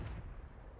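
A single loud tank cannon shot from a rapid-firing gun in the World of Tanks video game, with a heavy boom that decays quickly into a low rumble.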